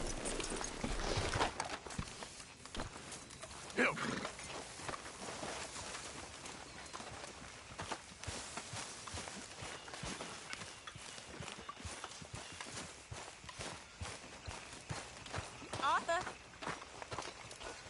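Horse hooves clip-clop steadily in Red Dead Redemption II, a continuous walking rhythm close by, with voices speaking intermittently over the hoofbeats.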